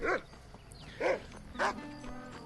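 A dog in the video game Red Dead Redemption lets out three short, yelping barks spaced roughly half a second apart, fairly faint against a quiet game backdrop with a little background ambience.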